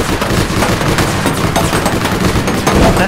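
Rapid, loud bursts of automatic gunfire crackle continuously in the online shooter game All Points Bulletin, close and dense, with overlapping shots and no pauses.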